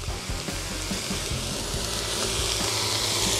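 Chopped carrot, celery and garlic with fresh oregano and bay leaf cook slowly in a pan over low heat, salted, giving a steady close crackling sizzle that runs unbroken throughout.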